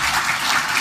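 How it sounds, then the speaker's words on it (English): A standing audience at a tribal energy summit plenary claps for the organizers, a brief, loud, dense wash of applause heard alone. "give these good folks a round of applause"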